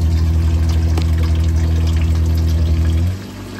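Small electric water pump in a DIY sink build hums steadily and loudly, then cuts off near the end as it reaches 35 PSI, leaving a quieter background.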